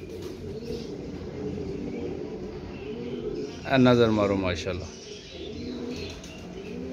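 Breeder pigeons coo softly in the background while someone talks, with a brief louder flutter of wings or cooing burst near the middle.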